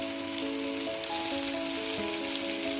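Mutton masala sautéing in a pan with coriander and turmeric powder, a steady close sizzle and crackle of frying holding level throughout, with a faint tonal hum running underneath.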